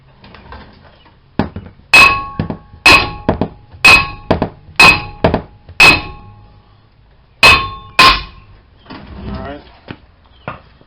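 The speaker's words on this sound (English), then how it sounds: "So I'm going to go turn the wheels and really start hitting on this thing." Repeated hard hammer blows ring out against a badly corroded front wheel bearing hub on a 2008 Ford Escape, about eight loud metallic strikes in uneven pairs with clanging ring-offs, then quieter rattling at the end.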